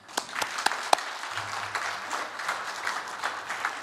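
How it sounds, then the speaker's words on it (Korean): A church congregation at a Korean men's mission service applauds to welcome a pastor to the pulpit, a brief, moderately loud burst of many hands clapping with a few sharper individual claps. "나오실 때 큰 박수로 환영해 주시기 바랍니다"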